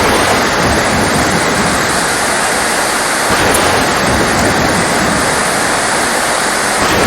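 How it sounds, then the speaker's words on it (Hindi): Heavy rain pours down on an island in a dense, loud, unbroken roar that stays steady from start to finish, with no voices. "ये कोई ऐसा जजीरा नज़र आ रहा है मुझे जहाँ पे बहुत तेज़ बारिश हो रही है।"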